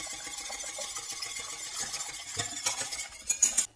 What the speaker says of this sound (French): je vais maintenant ajouter mes jaunes d'œufs et bien les mélanger à la préparation